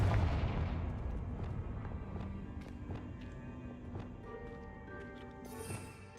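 A Confringo blasting spell from the Hogwarts Legacy video game bursts in a heavy boom at the start, then rumbling blasts and sharp cracks recur at intervals over a sustained low roar, with no voices.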